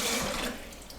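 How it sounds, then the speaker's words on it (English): Cold water running from a kitchen tap into a sink as it fills, a bright splashing rush that eases off partway through the short moment, heard alone. "get your sink full of cold water"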